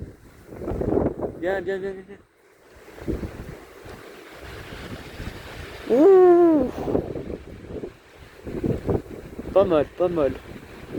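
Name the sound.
strong east wind blowing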